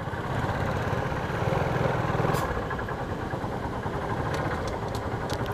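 A Honda Biz motorbike engine idles with a steady chugging rumble up close, its pitch rising briefly as it revs before settling back.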